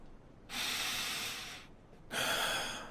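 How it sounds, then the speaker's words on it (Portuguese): A dying woman's slow, laboured breathing: two long, drawn-out breaths, each a heavy breathy rush lasting over a second, separated by a short quiet pause. "A respiração diminuiu."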